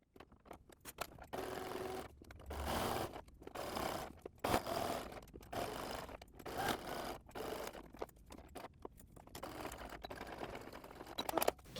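A domestic sewing machine fitted with a zipper foot stitches boning into a channel on a dress, giving quiet, close bursts of rapid whirring stitching separated by short pauses.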